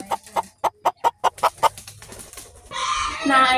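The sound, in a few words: chicken clucking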